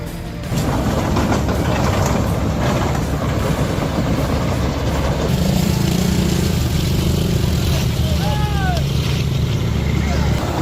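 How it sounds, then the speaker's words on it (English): A heavy truck engine roars steadily and loud throughout as its wheels spin in mud, with a grinding, churning texture and a faint whine near the end. "The engine roars, wheels spin in the mud, and the truck's body sways with every push of the throttle."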